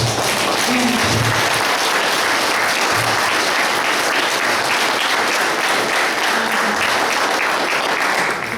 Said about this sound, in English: we need to really applaud their amazing work.